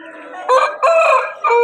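Rooster at the Vijayawada rooster market crowing close and loud in short strained bursts, three quick segments with brief gaps, no one talking over it.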